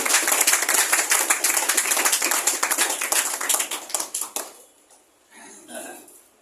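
An audience claps together in a dense burst of applause, loud and sustained for several seconds before thinning into scattered claps and fading, with a little murmuring at the close.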